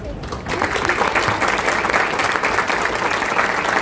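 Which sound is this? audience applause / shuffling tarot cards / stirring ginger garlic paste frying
audience applause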